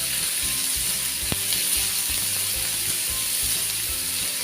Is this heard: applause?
no